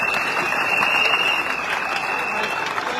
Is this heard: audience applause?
yes